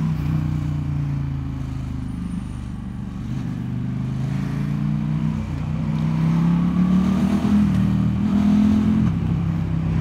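KTM 1290 Super Duke R motorcycle accelerating hard, with a loud, steady low engine drone that rises in pitch and swells toward the end, recorded close by, with no talking.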